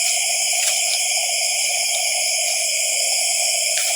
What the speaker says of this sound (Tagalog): Kasi may dalawang ibon dito.